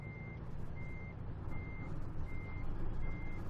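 A truck in American Truck Simulator backs up, its reversing alarm beeping at a steady, regular rhythm over a loud, continuous engine rumble, with no talking.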